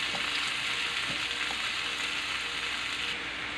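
Chopped tomatoes sauté in a hot pan before tilapia goes in, giving a steady, moderately loud sizzle and crackle with occasional light stirring scrapes.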